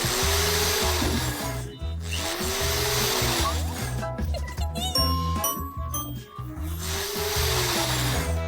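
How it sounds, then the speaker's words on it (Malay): A power screwdriver drives screws into a bed frame in several whirring bursts of rising motor whine, with pauses, clicks and light metallic taps between them, close and loud. "Memasangnya dengan skru."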